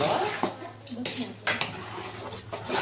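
A spoon scrapes and knocks against a pan while gram flour roasts in ghee for mohanthal, soft irregular clinks and scraping under faint background talk.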